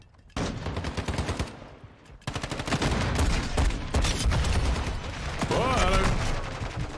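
Rapid gunfire from pistols in Call of Duty: Modern Warfare 2, loud and sustained in bursts, with a brief pause, and a voice speaking briefly over the shots.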